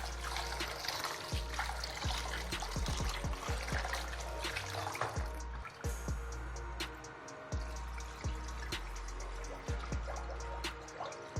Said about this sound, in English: I'm just washing our rice to remove the starch on top of it